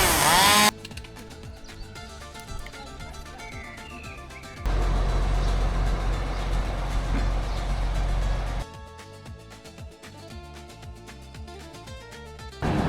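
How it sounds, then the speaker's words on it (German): A small chainsaw cutting palm trees buzzes loudly in bursts, revving hard in the middle stretch, with background music-like tones around it. "Mini-Kettensäge"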